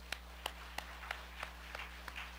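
A church congregation at a Korean festival worship service claps in a slow, even rhythm, about three sharp claps per second, faint against a low steady hum.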